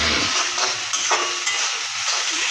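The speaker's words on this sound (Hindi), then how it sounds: "अभी मैंने हरी मिर्च और ये जो बाकी अदरक लहसुन के पेस्ट है वो डाल दिए। अभी मैं इसको फ्राई कर रहा हूँ।" Chicken fries with ginger garlic paste and green chilies, giving a loud, continuous sizzle close up, with faint stirring scrapes underneath.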